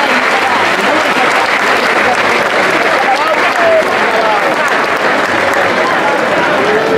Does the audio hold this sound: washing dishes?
no